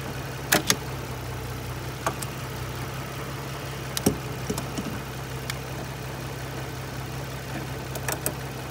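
An Infiniti G35 coupe engine idles in a steady low hum, with a few sharp clicks and knocks scattered over it and no talking.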